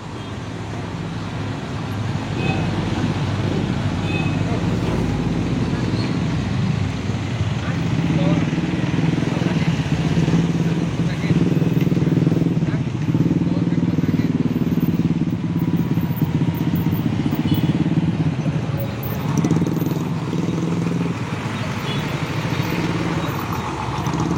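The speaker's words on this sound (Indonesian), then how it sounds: "Dan ini sudah terpantau macet." Motorcycles and cars idle and creep in a congested road jam near a crashed trailer truck, a steady rumbling engine drone with clattering that holds throughout, with people talking over it.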